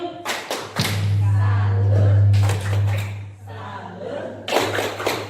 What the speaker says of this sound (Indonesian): Mari kita sama-sama berikan tepuk salut.